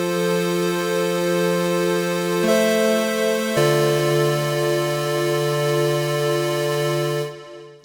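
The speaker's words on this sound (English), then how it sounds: "I've got a polygrid instrument going into a delay effect" A Bitwig polygrid synth instrument played through a delay effect holds sustained harmonic tones that step to new pitches twice, steady and clear with no voices, before cutting off near the end.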